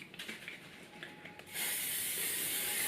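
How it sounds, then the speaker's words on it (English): After some quiet rustling and faint clicks, a steady hiss of an aerosol Tresemme strong-hold hairspray starts and continues, close and moderately loud. "And just spray it all over."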